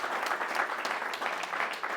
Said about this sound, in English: good nice round of applause for Chris